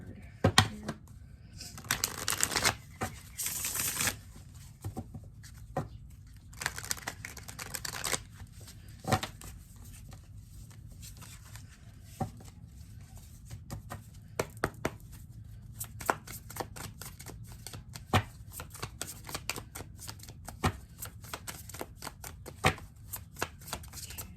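Tarot cards being shuffled and drawn during a pick-a-card reading, with repeated close riffling and soft slapping bursts at uneven intervals and brief snaps as cards are pulled, no voices.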